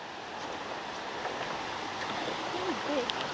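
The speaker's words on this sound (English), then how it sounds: "Well, the creek's not too far down below us now" A creek flows somewhere below on a rocky hillside, heard as a continuous broad rushing wash of water, fairly steady and moderately loud, with a few faint bird chirps over it.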